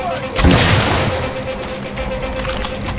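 Gunfire in Call of Duty: World at War, with a sharp shot and a booming blast near the half-second mark, then a rumbling decay under a sustained tone, loud and close.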